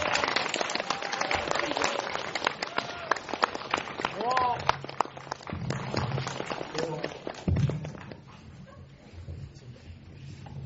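A cinema audience claps to welcome two Japanese film directors to the stage after a screening, with dense, steady applause that gradually thins and fades, while a voice speaks over it and occasional cheers rise through the clapping.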